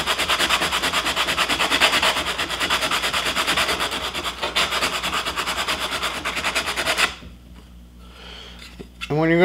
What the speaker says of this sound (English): work on getting everything sanded up nice and smooth